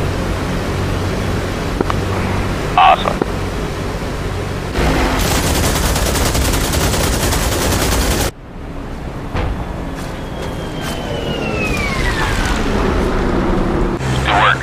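Aircraft cannon strafing boats in a WWII Dieppe Raid 1942 mission in DCS World: long, dense bursts of rapid fire over a constant engine drone, with radio chatter in the background.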